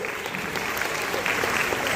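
An audience at a large dance performance marking International Dance Day breaks into dense, steady applause that fills the space and keeps going evenly without a break.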